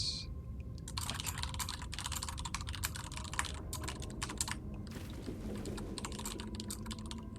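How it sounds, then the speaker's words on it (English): Rapid, steady clatter of fingers typing on a computer keyboard during an Elder Scrolls Online dungeon session, close and continuous for several seconds with no talking. "I'm typing to my guildmates"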